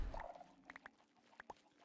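Chickens in a Minecraft-style multiplayer game cluck in a few short, quiet bursts, a handful of separate clucks spread over a couple of seconds.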